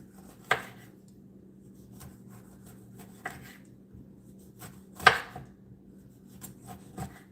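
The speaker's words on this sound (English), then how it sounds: "We're going to slice these into wheels." A knife slices an orange into wheels on a cutting board, giving a few sparse, quiet, sharp cuts spaced seconds apart, close by, over a faint background hum.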